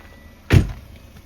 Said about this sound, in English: Let's get out of the truck real quick.